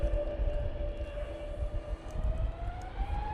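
An Aer Lingus airliner rides a gusty crosswind at an airport, its engine whine a sustained tone that slowly rises over a rumbling, wind-buffeted low roar.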